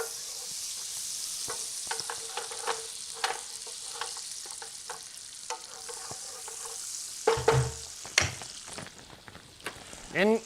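Food fries in hot oil in a home kitchen, giving a steady crackling sizzle broken by scattered stirring clicks, with a few voices near the end.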